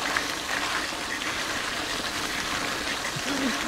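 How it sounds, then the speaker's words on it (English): Bicycles with gravel tyres ride through water running down a flooded, gravelly road on a wet downhill ride in Dorset, giving a steady close rushing and splashing wash that lasts the whole time. "And now we are riding the river."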